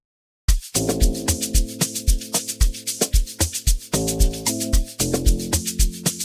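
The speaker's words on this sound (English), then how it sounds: "I'm using this E bass from Fruity DX10" E bass patch from the Fruity DX10 synth in FL Studio playing a simple repeating pattern of short plucked notes with a punchy low attack, steady and loud, alone without any voice.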